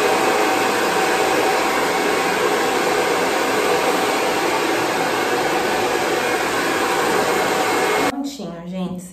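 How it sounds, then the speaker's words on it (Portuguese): A hair dryer on a lowered heat setting, drying hair, blowing loudly and steadily with a constant roar, then cutting off near the end as a voice begins speaking. "Eu gosto de diminuir a temperatura do secador e bater o secador em todo o cabelo"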